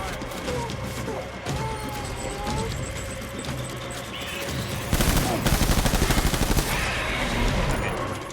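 Gunfire in Death Stranding Director's Cut, scattered shots at first, then a loud rapid automatic burst of evenly spaced reports in the second half, with a voice talking over it.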